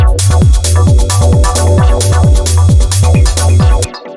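A punchy 909 drum machine kick thumps in a steady four-on-the-floor beat, loud and forward over a busy minimal Detroit techno groove, stopping abruptly at the end.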